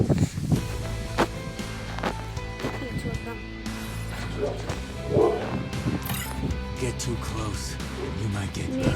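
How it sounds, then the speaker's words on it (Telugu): A dog barks in the background at home, intermittent and partly buried beneath constant close talking and clattering mobile game sounds. "బ్యాక్ సైడ్ మా కుక్క ఉంది"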